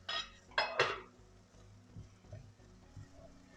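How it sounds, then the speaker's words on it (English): Onions cook in a pan on the stove for a fish curry: a utensil clinks and scrapes against the pan a few times, then faint, low sizzling continues quietly. "the onions have been cooking for about 10 minutes"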